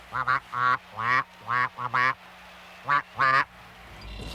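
A voice imitates a duck, giving about eight short, nasal quacks in uneven clusters, close and clear against a quiet background.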